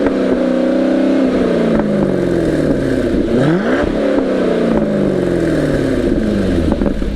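C6 Corvette with a Corsa X-pipe and Corsa Sport axle-back exhaust revs hard and close, its engine note climbing and falling through several steady revs that run the whole time with no talking.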